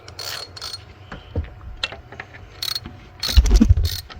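Socket ratchet working on an exhaust manifold stud in a car engine bay, giving near, uneven bursts of clicking and metallic knocks, with a louder rattling spell toward the end.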